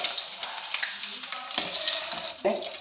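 Cashews and raisins frying in a pan for soybean payasam, a steady sizzle with a few clinks and stirring scrapes, close and fairly quiet throughout.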